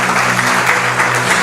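Loud, continuous church congregation applause, many hands clapping densely and evenly throughout with no pause.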